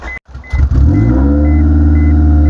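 Car engine with a newly swapped multi-port fuel injection system cranks briefly, then catches and settles into a loud, steady idle with an open header, while a repeating electronic beep chimes in the background.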